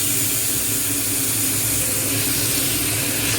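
Large uncut pieces of washed chicken hit a hot pan for Chettinad chicken curry, giving a loud, steady, broadband hiss and sizzle that runs unbroken throughout with no voices.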